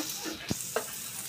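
Pomfret fish frying in a pan after being flipped, a soft steady sizzle with two brief sharp clicks or pops of the pan, no voices.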